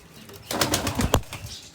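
A Gurdev-line pigeon takes off with a short flurry of close, loud wing flaps lasting under a second, set against quiet background.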